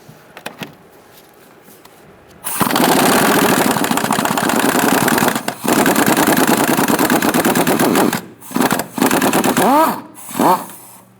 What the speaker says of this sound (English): Using a 12mm socket, we're going to take out our nuts where the mount is.